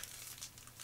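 A Magic: The Gathering War of the Spark booster pack's foil wrapper crinkles as it is torn open, a short, quiet burst of crackling plastic.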